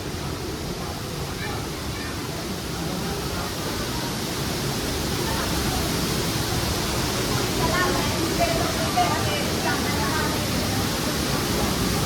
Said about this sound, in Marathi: पाणी कसं पडतंय